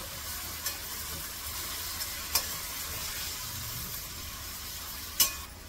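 Chopped spinach gets stirred into a pan of sizzling vegetables, a steady close fry with a few sharp clinks of a utensil against the pan, no speech.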